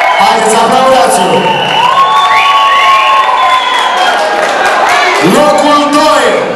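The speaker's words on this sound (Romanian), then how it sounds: "Haideți, aplaudați-o!" At a Miss Adolescence pageant in a disco, a loud crowd cheers, whoops and shouts with high-pitched voices and some clapping, continuous and close throughout.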